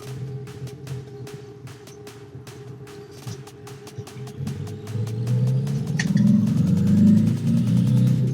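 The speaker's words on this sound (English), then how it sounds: "The engine noise is quite evident." A Tata Harrier SUV engine revs up in sport mode, growing louder and deeper over several seconds past 3000 RPM, with a rhythmic series of clicking or ticking sounds running throughout.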